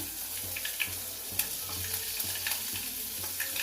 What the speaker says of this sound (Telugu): ఇట్లా కొంచెం వేగితే ఇవన్నీ ఉల్లిగడ్డలు వేసుకున్నానండి